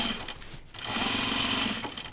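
A home sewing machine runs steadily and fairly close, its motor whirring almost without a break over about two seconds, dipping briefly once near the start.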